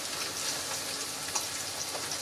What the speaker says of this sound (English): the sausage won't take very long to cook at all